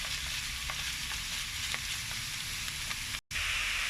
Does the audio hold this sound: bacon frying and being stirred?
yes